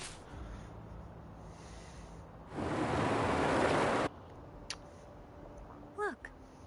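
Water waves in the video game Wuthering Waves: a single rushing surge of water swells for about a second and a half, then cuts off, leaving quiet background with a few small chirps.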